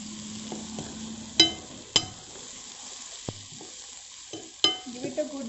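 A spatula stirs egg bhurji with turmeric in a frying pan, giving several sharp scrapes and knocks against the pan over a steady, close sizzle.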